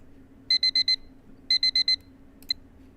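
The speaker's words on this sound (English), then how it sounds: "Night Bright Alarm. What does it sound like?" Night Bright alarm sound from a Rhythm USA clock: two clear groups of four quick electronic beeps a second apart, followed by one short single beep, over a faint steady hum with no talk.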